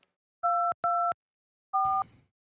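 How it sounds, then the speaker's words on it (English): A telephone line tone sounds in steady two-pitch electronic beeps: two quick bursts, a pause, then a third, clear and alone. "I don't like this dial tone thing"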